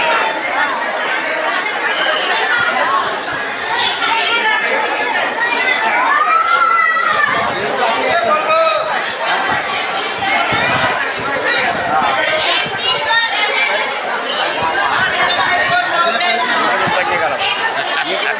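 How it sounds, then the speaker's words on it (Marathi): Dense, steady crowd chatter fills a busy temple pavilion at Akkalkot, many voices overlapping into a loud, continuous babble with no single speaker standing out. "भरपूर प्रमाणात गर्दी आहे पहा मंडपामध्ये."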